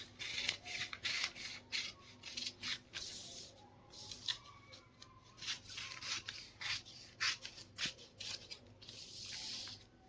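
Scissors cutting along a paper kurti-style blouse pattern, the katori paper cutting for a blouse, with repeated short snips and rustling paper strokes, close and fairly quiet, no talking.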